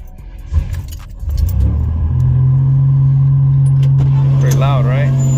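Buick Grand National engine cold-starting: a brief cranking whir, then the motor catches and settles into a loud, steady idle rumble, with faint jangling and voices in the background.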